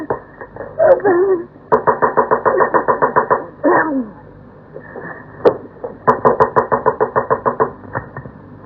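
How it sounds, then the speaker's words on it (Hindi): Someone knocks on a bathroom door in a 1957 Hindi film. Loud, rapid runs of raps come in repeated bursts with short pauses between them, and brief voice-like sounds break in between the runs. "वो तो बाथरूम का दरवाजा खटखटा रही है"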